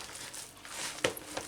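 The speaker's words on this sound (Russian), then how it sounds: "я замешиваю тесто именно руками. На руки немножко наливается оливковое масло." Hands coated with a little olive oil knead yeast-free kefir bread dough, giving soft, close, irregular squishing and crinkling sounds with a few sharper sticky pops.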